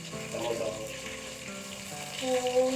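Onions frying in a pan for chicken pulao give a steady close sizzle, with a voice talking over it.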